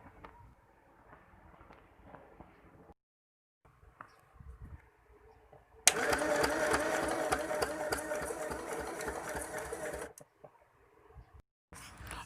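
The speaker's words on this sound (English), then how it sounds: "Next, I will sew the upper part of that fabric." A sewing machine stitches the upper edge of fabric cut from an old skirt, running loud and steady for about four seconds after quieter handling sounds and brief pauses.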